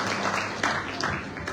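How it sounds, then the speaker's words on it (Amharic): A crowd at a church wedding ceremony claps in a sustained burst of applause, with a few louder claps standing out from the steady patter. "እሺ በዛው አጨብጭቡ ውስጥ በዛው"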